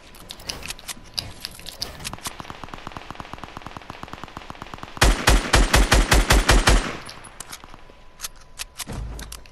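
Automatic gunfire in Fortnite Battle Royale: rapid, rhythmic bursts of shots, a quieter stretch followed by a louder, heavier close-range volley, then a few scattered shots.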